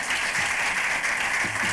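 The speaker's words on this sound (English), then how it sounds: "So please clap for all of you." An audience of women entrepreneurs claps at a business event, the applause continuous and full throughout with no pauses.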